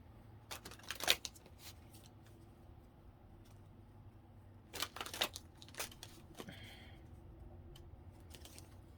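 Quiet, intermittent riffling of an oracle card deck: a few sharp bursts of shuffling separated by softer handling and pauses, close by with no talk.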